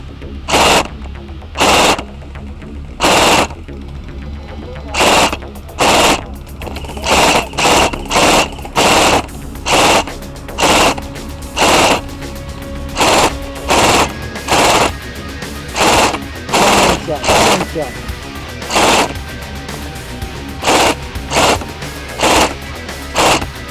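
A G&G CM16 Raider airsoft electric gun fires in loud, sharp bursts, from single rapid strings to longer volleys, spaced irregularly over a low steady motor hum. The shots are close and there is no talking.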